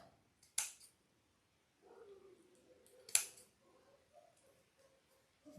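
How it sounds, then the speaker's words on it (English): Scissors snip black felt twice, a few seconds apart, with crisp, close, fairly quiet cuts and soft handling noise between them. "So again, we're just going to snip these off."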